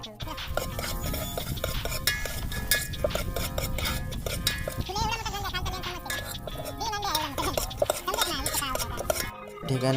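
A spoon clinks and scrapes against a cooking pot while stirring, with quick metallic taps and rattles running throughout, mixed with voices nearby.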